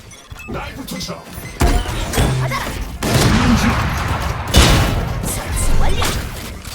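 Bomb blasts in a shooter video game: several sharp, loud crashing bursts that each trail into rumbling debris, spaced irregularly and mixed with other game sounds and a voice.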